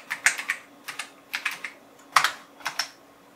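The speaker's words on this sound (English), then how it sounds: "Let's try typing in" Keystrokes on a computer keyboard while logging into a Windows NT terminal server, clicking in short irregular bursts with brief pauses, close and clear.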